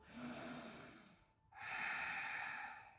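A deep inhale through the nose during a yoga session, drawn out over about a second, then after a brief pause a second strong airy breath, close and alone.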